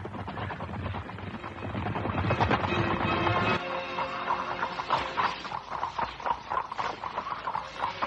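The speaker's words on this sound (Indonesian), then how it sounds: "kenapa diperlambat lari kuda-kuda kalian?" Horses run in an Indonesian audio drama effect: hoofbeats clop in irregular bursts, heavier and more crowded at first, then thinning into scattered, distinct thuds and clatters.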